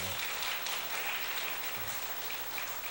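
A church congregation at a Sunday morning service applauds in a steady, even wash of many hands clapping, moderately distant and sustained without pauses.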